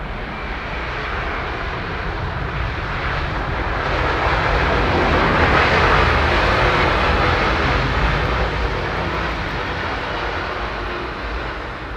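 A jet airliner's engines roar loud and steady at London Heathrow Airport, swelling slightly midway and then easing, heard close with no voices over it.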